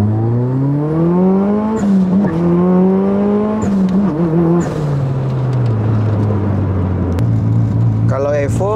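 A tuned Mitsubishi Evo 4 RS with a Greddy turbo accelerating, engine pitch climbing through rising revs with gear changes, loud and close from inside the car.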